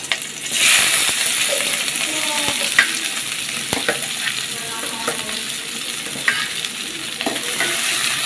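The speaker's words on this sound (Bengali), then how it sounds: "এটা একটু লাল লাল করে ভেজে নিতে হবে" Chopped onions frying in a pan for an egg curry, a steady loud sizzle running throughout, with occasional sharp clicks and scrapes of a spoon against the pan.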